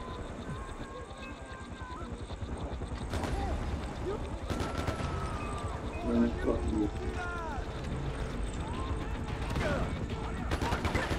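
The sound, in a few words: explosions in the video game Far Cry 4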